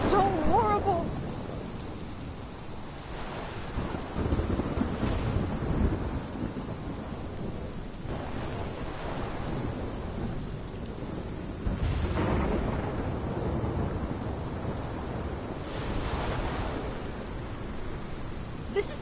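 A thunderstorm from the Life Is Strange video game rumbles with several rolling thunder peaks over steady heavy rain, loud and continuous, and a voice speaks beneath the storm.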